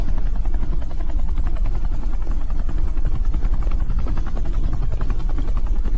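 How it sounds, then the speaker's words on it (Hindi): A helicopter comes down onto an airport tarmac, its rotor thumping in a fast, steady rhythm under a loud, constant engine whine, close and unbroken throughout. "ये हेलीकॉप्टर सीधे एयरपोर्ट के टारमैक पे लैंड होगा"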